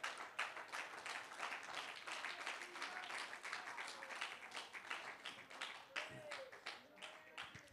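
A church congregation claps hands in a faint, rapid patter of individual claps running steadily throughout, with talk and scattered voices mixed in underneath.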